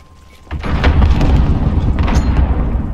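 A grenade detonating in Call of Duty Modern Warfare: a sudden loud boom after a quiet moment, followed by a sustained rumbling roar and scattered debris crackle, with no voices.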